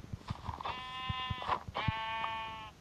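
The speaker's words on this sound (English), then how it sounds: "Hey, sheep." A sheep in the video game Minecraft gives two wavering, nasal bleats, each a drawn-out quavering cry, set against scattered soft thumps and clicks of game activity.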